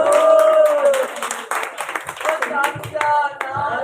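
Audience clapping at a large community devotional singing gathering at an old temple, a crowd's scattered, uneven claps rising and dipping while someone speaks over the start.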